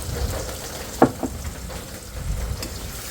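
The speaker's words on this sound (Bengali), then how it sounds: "পেঁয়াজটা একটু ভালো করে ভাজা নেয়" Onion frying in oil in a home kitchen pan for a shrimp dish, a steady soft sizzle with a couple of sharp utensil knocks near the middle, no voices.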